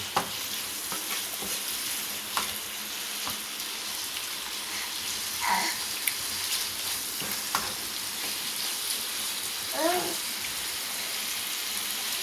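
Chicken sizzles steadily in ghee in a pan with a soft crackle, punctuated by spoon stirs and scrapes; faint voices chime in briefly.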